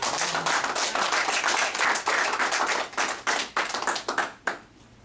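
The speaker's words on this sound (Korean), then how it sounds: "여러분 박수 한번 보내주실래요?" Audience at a family-love letter-writing awards ceremony claps together in a steady, dense burst that thins into scattered claps and fades out near the end.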